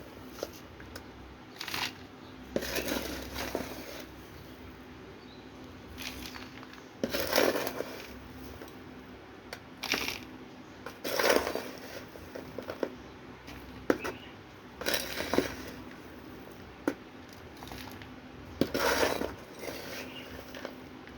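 Potting soil pressed and crumbled by hand around a young rose cutting being repotted, with soft gritty rustles and crunches in scattered bursts, faint and close, with no voices.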